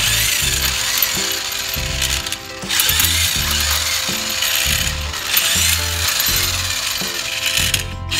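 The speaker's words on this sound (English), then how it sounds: "Using an electric half-inch drive impact gun, which is powered off your generator or your power inverter on the vehicle," Electric half-inch drive impact gun run off a generator or inverter, removing lug nuts from a Class C RV wheel: loud, close repeated hammering bursts with brief pauses between them.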